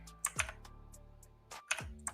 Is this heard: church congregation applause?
no